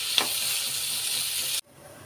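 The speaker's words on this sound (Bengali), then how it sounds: "এখন সুন্দরভাবে নেড়ে আমি ঢাকনা দিয়ে ঢেকে দেবো 2 মিনিটের জন্য।" Potato and onion flower bhaji frying in a pan with salt and green chillies, a loud steady close sizzle with a spoon tap early on, cutting off abruptly as the pan is covered.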